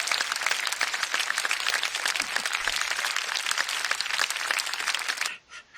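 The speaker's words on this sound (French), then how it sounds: "le public vous applaudit" Dense, bright clapping from an audience after an improv scene in a French online show, steady and loud throughout before cutting off abruptly near the end.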